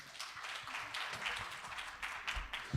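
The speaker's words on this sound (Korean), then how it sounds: "자, 큰 박수로 부탁드리겠습니다." An audience at a data and cloud technology conference claps steadily, a soft, distant patter of applause lasting the whole moment.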